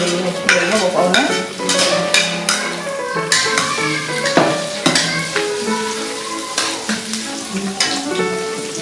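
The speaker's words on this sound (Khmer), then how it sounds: "ចាយើងដាក់ប្រេងឆាដើម្បីបំពងខ្ទឹមសរបស់យើង" Garlic stir-frying in hot oil for a pork and morning glory dish, a close sizzle with repeated clanking scrapes of a spatula against the pan in an uneven rhythm.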